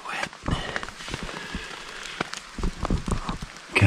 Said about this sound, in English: Can't believe how much rain there is.